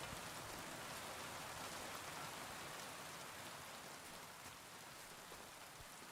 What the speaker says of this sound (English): The rain sounds and the storm sounds good.